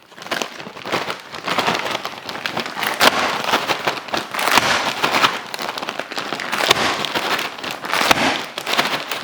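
A bag of frozen shredded potatoes for homemade hash browns is thumped and slammed on concrete, giving loud crackling, rattling bursts as the frozen shreds break apart, repeated through the stretch without talk.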